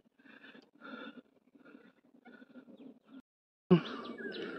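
Birds calling in a quiet forest near the Kondane caves, a series of short, harmonic call bursts in an otherwise silent setting, ending with a louder, sharper call burst.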